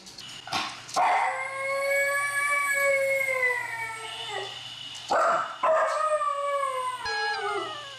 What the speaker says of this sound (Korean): 보호자가 없는 걸 확인하자 하울링을 시작하는데요.